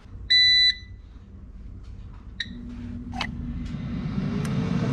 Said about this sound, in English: let's preheat the air fryer